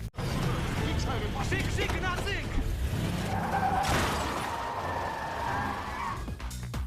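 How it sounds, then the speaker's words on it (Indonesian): Film car chase ending as one car rams into another, a dense burst of skidding tires, engine roar and crunching impact noise, loud and close under a dramatic score with some voices. "Vigilante berhasil menghentikan Andreas dengan menabrak mobil yang ditumpanginya"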